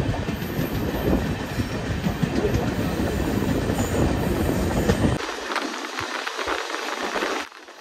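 Indian Railways train 15708 running from Amritsar toward Ambala Cantt, a steady loud rumble and clatter of wheels on rails throughout that suddenly thins and quiets partway through, leaving a lighter rattle before fading.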